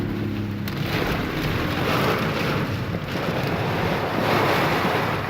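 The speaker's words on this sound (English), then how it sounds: "it's raining pretty bad." Heavy rain and gusting wind in a storm by a river, a loud, dense roar of wind buffeting and wash that runs steadily throughout with no voices.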